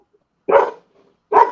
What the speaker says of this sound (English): Ripley, Bailey was barking because of the fireworks prior.